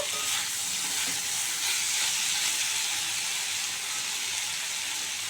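Spiced boiled potatoes frying in a pan for a mushroom curry give a steady, close, bright sizzle that hisses on without a break, with faint stirring and no voices.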